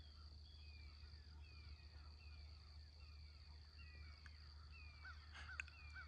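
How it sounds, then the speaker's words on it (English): Crow calls ring out at a distance over a steady low hum and faint insect drone at daybreak on a trail, with a few brief chirps near the end. "you hear a crow."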